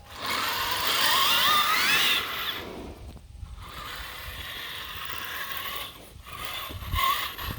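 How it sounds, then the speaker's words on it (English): An RC Cross RC Bronco crawler climbing stairs, its drivetrain whirring with a rough, mechanical grinding and clicking from a chipped gear, loud in the first two seconds, then a steadier buzzing run with brief pauses. "It's like, must be a chipped gear."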